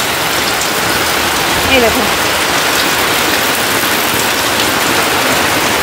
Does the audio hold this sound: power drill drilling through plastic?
no